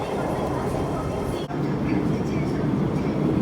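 A Hong Kong MTR M-train runs through the underground Tai Koo Station with a loud, dense rumble and rattle, steady and close except for one brief dip midway, while a voice is faintly present.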